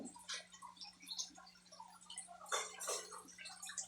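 Water runs continuously into a concrete pond holding tilapia, a steady, soft splashing trickle with faint ticking drips and a low hum underneath, moderately distant and without talk.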